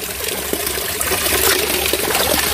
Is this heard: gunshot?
no